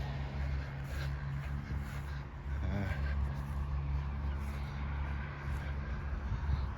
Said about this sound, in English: The main road's up there, that's why you can hear the traffic.